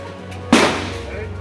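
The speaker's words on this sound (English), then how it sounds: "shooting the shotty" A single sharp shotgun blast at an outdoor shooting range cracks loudly nearby, followed by a brief decaying echo over a low background hum.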